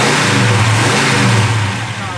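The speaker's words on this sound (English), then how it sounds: "Car runs out strong, as you can hear." A 1972 Chevrolet Chevelle with a big block 454 V8 revs hard up close, its deep, loud engine roar swelling and sustaining before easing off slightly at the end.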